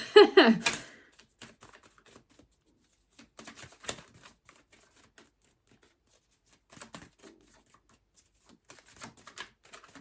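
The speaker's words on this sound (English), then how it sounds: "Give it a good old shuffle." A quick, loud flurry of tarot cards being shuffled, then scattered soft taps and flicks of cards handled in short, sparse bursts.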